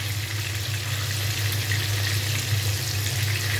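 Tilapia fish frying in hot oil, a dense continuous hiss and crackle heard up close, steady and unbroken throughout, with a low hum underneath and no voices.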